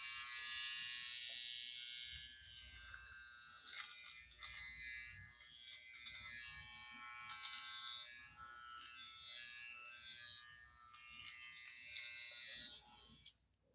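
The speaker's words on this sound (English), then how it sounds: "which is the eyebrow trimmer, and you have to go against the hairs." An electric eyebrow trimmer buzzes continuously, held close as it cuts hairs, with its whine wavering in pitch as it moves against the growth; a voice talks faintly at moments.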